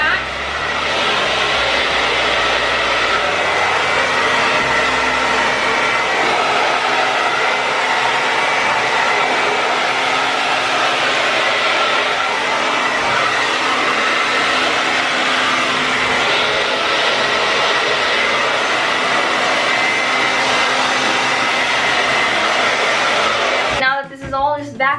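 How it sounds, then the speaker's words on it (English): A hair dryer blowing hair dry runs continuously as a loud, close, steady whooshing drone, shifting slightly in tone as it moves, and clicks off in the final second. "We're gonna blow dry back."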